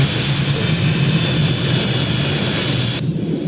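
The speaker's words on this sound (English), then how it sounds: "So yeah, we're gonna be taxiing" A jet cargo airplane taxis after landing on runway 9 in the Roblox game Project Flight, its engine roar a loud, steady whine that drops off abruptly near the end.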